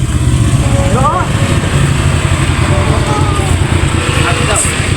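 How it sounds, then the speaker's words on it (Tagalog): Motorcycle engine running steadily as riders set off for home after a graduation outing, a continuous low rumble throughout with voices talking over it. "Nakasakay na po ka ng motora."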